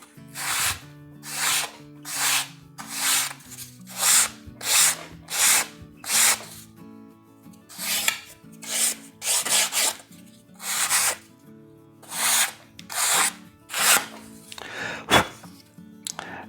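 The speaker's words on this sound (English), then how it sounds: "As you sand it, you want to try to make sure it's symmetrical." Wooden model rocket fins are sanded by hand, giving repeated rhythmic rasping strokes in bursts, close and fairly loud, with short pauses between them and no voices.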